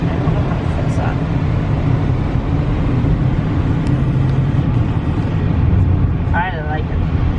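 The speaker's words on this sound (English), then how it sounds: "I am test driving the Mazda CX5 Sport, and right now I just can't get over how quiet it is" Cabin of a Mazda CX-5 Sport on a test drive, a low, steady road and engine rumble with a soft whine, fairly subdued and continuous, with a brief chirp near the end.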